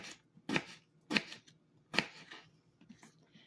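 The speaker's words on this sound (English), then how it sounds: "And then I just cut it like that." A knife slices through a juicy peach, giving three crisp, evenly spaced cuts close by against a quiet background, with no talking.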